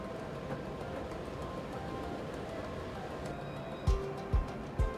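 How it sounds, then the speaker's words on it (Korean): A low, steady rumble of a tram rolling into Place Masséna in Nice, France, over a busy outdoor ambience, followed by a few soft thuds near the end. "마세나 광장으로 차량 한 대가 들어온다. 바로 트램이다."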